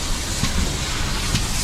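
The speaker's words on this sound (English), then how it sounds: "this train will be running all the way down to Norton Fitzwarren" A train running toward Norton Fitzwarren, a steady rumble and hiss close by with a couple of soft clanks from the wheels or couplings, and no voices.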